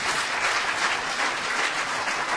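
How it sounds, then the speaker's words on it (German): Dense, steady audience applause fills a hall after a panel discussion on the crisis of capitalism and democracy, many hands clapping together at moderate loudness, no voices over it. "Ihr Applaus."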